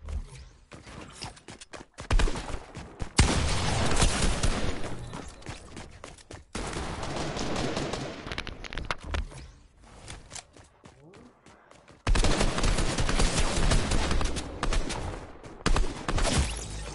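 Fortnite gunfire comes in loud, sustained bursts of rapid shots, broken by short quieter gaps and some footsteps, with a player talking at times.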